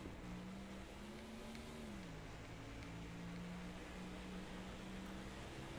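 A race car engine in NASCAR Thunder 2004 drones steadily at high revs near the redline, its pitch wavering briefly and then settling, constant and fairly faint beneath a noisy background.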